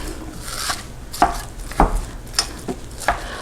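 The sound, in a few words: spatula chopping browning sausage in pan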